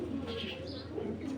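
Original Dragon racer pigeons give soft, low, continuous cooing at close range, with no talk over it.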